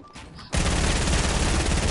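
Gunfire in Fortnite erupts suddenly after a quiet half second and then roars as a dense, loud, continuous barrage to the end.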